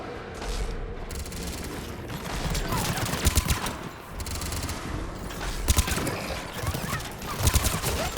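Gunfire in the Mass Effect video game: repeated bursts of rapid shots crackle over a steady background of combat noise, with a few louder volleys standing out near the middle and end, and a voice occasionally audible.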